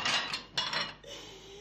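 Dishes and cutlery clatter and clink as they are unloaded from a dishwasher in a home kitchen, a few close, bright bursts of rattling, followed by a softer rising tone.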